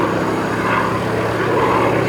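A Hawker Sea Fury propeller fighter roars through an airshow display turn, its loud, steady engine and propeller drone filling the air continuously and close by.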